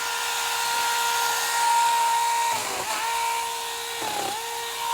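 A SeeSii mini chainsaw cutting down a small poplar tree, its high steady whine running close and loud, dipping twice as the blade bogs into the wood.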